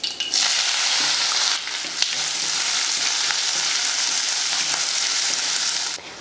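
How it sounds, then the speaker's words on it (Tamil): Mustard seeds, urad dal, onion, curry leaves and green chili fry in hot oil, giving a loud, continuous sizzle with crackles and stirring throughout. "எண்ணெய் காஞ்சதுமே கொஞ்சம் கடுகு உளுந்து ஒரு வெங்காயம் கொஞ்சம் கருவேப்பிலை ஒரு பச்சை மிளகாய் இதை சேர்த்துடலாம்"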